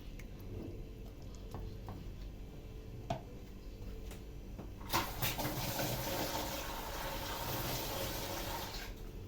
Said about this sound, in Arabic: انزلوا بقى بكميه الميه اللي هي تغطي الرز